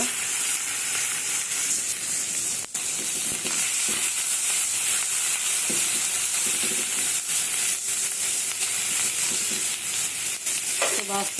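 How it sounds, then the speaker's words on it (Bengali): Dried fish (shutki) frying in a pan, a loud, continuous hiss and crackle of hot oil with occasional stirring scrapes and taps throughout, no one speaking. "তো আমি আগে সুটকিটা ভেজে নেই"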